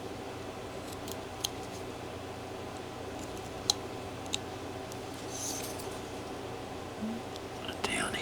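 A knife carving into wood for a carved wedding scene gives a few faint, sharp cuts and clicks spread over a quiet, steady background, with a low voice murmuring now and then.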